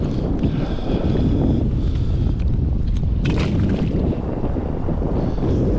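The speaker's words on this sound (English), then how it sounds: "There's that wind they were calling" Strong gusty wind at a lake beside a kayak, roaring and buffeting the microphone in a constant loud rush with brief flutters, no voices over it.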